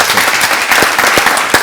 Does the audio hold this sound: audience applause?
yes